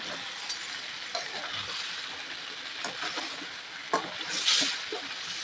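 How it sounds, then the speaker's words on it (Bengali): Beef and taro sizzle and stir-fry in a covered pan over medium heat, a steady hiss broken by occasional scraping and clinks of a spoon against the pan. "তারপর ঢাকনা লাগিয়ে চুলার আগুন মিডিয়ামে রেখে মাংস কষিয়ে নিয়েছি"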